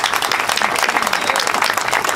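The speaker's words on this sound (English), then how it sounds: "I really want to applaud Mayor Reed as well" Audience at a Beltline Westside Trail groundbreaking in Atlanta applauding the mayor, a dense burst of crowd clapping, loud and continuous for a couple of seconds.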